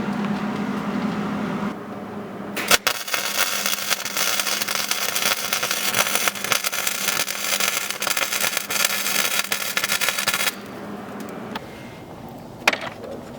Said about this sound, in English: I'm gonna start welding, so see how that goes